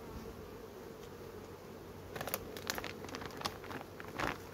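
Honeybees in an opened hive colony give a steady, soft, low buzzing hum, with light crackles and rustling from frames being handled in the second half and no talk.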